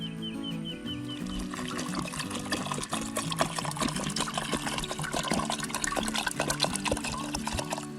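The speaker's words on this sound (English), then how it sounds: "I'm gonna go ahead and add some water to this, get it on the stove, start cooking." Water pours and trickles into a pot of diced crawfish ingredients outdoors, a steady splashing fill with no talking.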